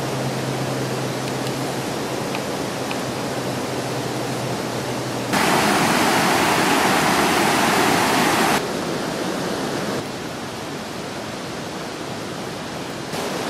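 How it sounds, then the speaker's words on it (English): A huge waterfall roars on a mountain hiking trail, a steady dense rush of falling water that swells louder for a few seconds midway, then settles back to a continuous broad wash with no voices. "It's a huge waterfall."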